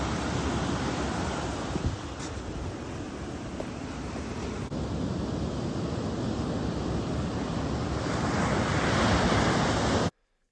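Ocean surf and wind at Laguna Beach, California: a loud, continuous wash of breaking waves with gusty wind buffeting the microphone, swelling toward the end before cutting off abruptly.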